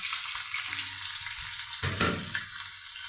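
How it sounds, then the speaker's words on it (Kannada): Onion, chillies and curry leaves fry in oil with a soft, steady sizzle, a few gentle stirring scrapes rising briefly in the middle, no voices. "ಎಲ್ಲ ಚೆನ್ನಾಗಿ ಫ್ರೈ ಮಾಡ್ಕೊತಿದ್ದೀನಿ"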